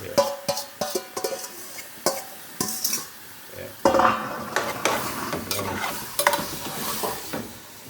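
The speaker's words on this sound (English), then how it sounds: "You want to keep stirring it to make sure, you know, everything is reach on the side" Jamaican brown stew chicken being stirred in a hot pot, with repeated scraping and clinking strokes over a steady sizzle, loud and close.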